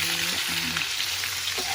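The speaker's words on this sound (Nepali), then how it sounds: "आलु पनि भुट्दैछु यो चाहिँ हाम्रो आलु" Potatoes frying in a pan with a steady broad sizzle, a few low tonal hums passing underneath, and no talk over it.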